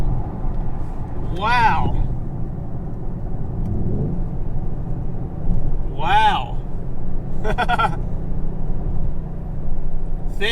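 A Mercedes GLC63 AMG accelerates hard with a loud, sustained engine rumble heard from inside the cabin, while a driver exclaims several times over it.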